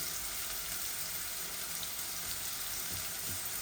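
Onions frying in a pan for a spinach dish, giving a steady, even sizzle of moderate loudness that continues unbroken throughout with a few faint clinks near the end.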